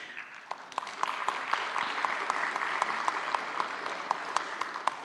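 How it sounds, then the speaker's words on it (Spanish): Applause at a labor procedure law congress, with an audience clapping steadily and sharp individual claps standing out, moderately near and without speech. "señora doctora María Estefany Soto Ceballos, con un fuerte aplauso"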